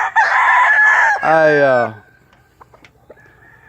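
A Gravedigger breed rooster crows loudly up close, a long harmonic call ending in a falling tail, followed by a short quiet stretch with a few faint clucks and a brief voice.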